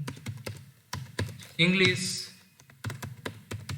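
Picklist values are typed on a computer keyboard in short bursts of close, crisp key taps with gaps between them, while someone speaks briefly partway through.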